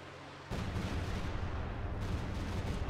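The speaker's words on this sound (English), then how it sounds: "nasty Stuka barrage right on top of the mortar" A Stuka dive-bomber barrage in the WWII strategy game Company of Heroes 2 bursts into a dense, continuous rumble of explosions after a brief quieter moment, heavy and sustained to the end.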